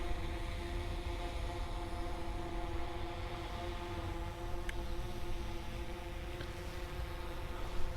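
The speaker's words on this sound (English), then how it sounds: "the drone buzzing above my head" A drone hovering overhead at the Anfield Road stand expansion gives a steady whining buzz with stable pitched tones over broadband wind rumble, held at a constant level for the whole stretch.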